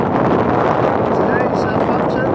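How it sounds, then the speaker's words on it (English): Wind gusts steadily across the microphone at the Southampton boat show on a cold, drizzly day, a loud, unbroken rushing roar that fills the clip with only faint thin squeaks on top. "Today in Southampton, it's windy and it's been trying to drizzle all the way down here."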